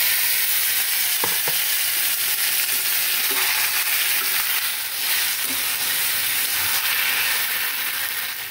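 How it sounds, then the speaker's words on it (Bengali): Marinated meat fries and is stirred in a pot, giving a loud, continuous sizzle with occasional scraping stir sounds, close and without talk. "মাংসটা তো এদিকে কষছে।"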